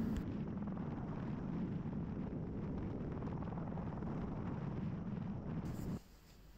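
Airbus H125 (AS350B3) helicopter flying a sling load approach, heard as a loud, steady broadband rotor and turbine roar that holds constant before dropping off sharply near the end.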